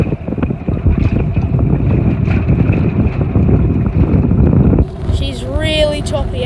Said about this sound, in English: Really choppy out here today